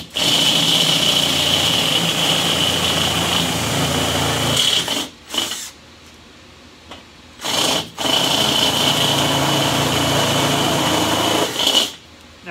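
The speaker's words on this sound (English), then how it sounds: "Now I'm gonna come in with a step drill and I'm just gonna enlarge them" A whining high-speed step drill enlarges holes in a Weber Performer kettle grill, running in long bursts that cut out briefly twice and restart, steady and close, with no talking.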